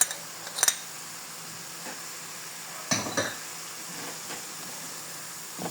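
Onion and carrot fry with spices in a pan for red lentil patties: a faint, steady sizzle, broken by a few sharp scrapes and clinks of stirring.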